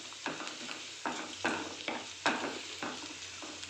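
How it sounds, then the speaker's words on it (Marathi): Onion and curry leaves sauté in a hot pan, with stirring scrapes and sizzle rising in regular bursts about every second over a steady frying hiss, close and moderately loud. "कांदा परतून घ्यायचा आहे"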